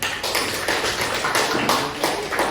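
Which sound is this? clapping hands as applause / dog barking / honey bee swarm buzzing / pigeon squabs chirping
clapping hands as applause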